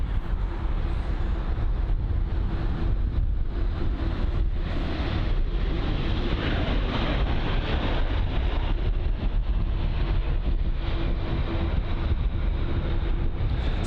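Turkish Airlines Airbus A330-300 jet engines heard at London Heathrow, a loud, continuous broadband roar with a steady hum, sustained for the whole stretch without talk.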